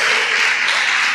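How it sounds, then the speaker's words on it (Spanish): Church congregation clapping in applause for the Lord, a dense continuous patter of many hands, close and loud throughout the short burst. "¿Puede darle un aplauso al Señor?"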